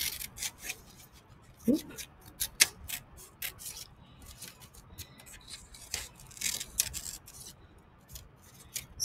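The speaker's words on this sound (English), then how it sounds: "And then I can cut this piece right here." Scissors cutting a paper piece for a craft, a string of short crisp snips and rustles with pauses between them, close and fairly quiet, while a person talks softly.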